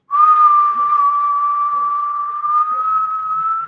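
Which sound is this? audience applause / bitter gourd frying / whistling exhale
whistling exhale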